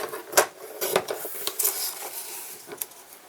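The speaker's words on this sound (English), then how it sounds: "I'm using the right side of my trimmer just because it's easier" A paper trimmer cuts paper for a layered craft bow, giving a quick run of short, sharp, close scraping clicks and slices that come in uneven bursts.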